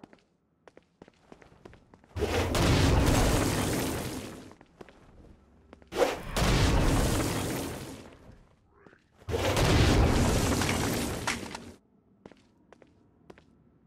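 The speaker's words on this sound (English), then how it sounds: "Stone blast is especially useful on flying demons like this one." Stone blast explosions in Saints Row: Gat Out of Hell, three separate heavy roaring bursts, each lasting about two seconds, with quieter clicks and footsteps in the gaps between them.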